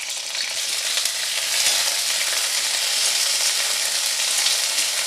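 Whole and cut okra fry in a pan over a low to medium gas flame, giving a steady, close hiss of bubbling oil that swells slightly partway through, with no voices.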